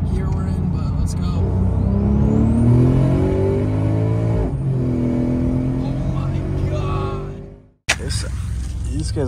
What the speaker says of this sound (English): This car sounds great.